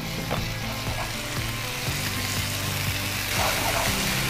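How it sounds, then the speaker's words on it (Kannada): Tomato paste fries with onions in a pan for an egg masala, making a steady, fairly loud sizzle with soft periodic stirring scrapes and no voices. "ಈಗ ಟೊಮೆಟೊ ಪೇಸ್ಟ್ ಹಾಕ್ತಿದ್ದೇನೆ."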